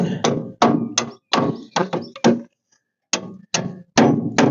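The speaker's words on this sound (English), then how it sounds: "I'm going to go ahead and carefully knock it back in" Sharp metallic hammer strikes on a 1956 Ford milk truck part ring out one after another, about a dozen blows in uneven bursts with a short pause midway.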